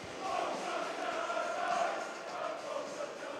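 Sparse crowd murmur at a Queen's Park versus Falkirk football match, a thin steady wash of distant voices and ambience with no distinct cheers, moderately loud and continuous.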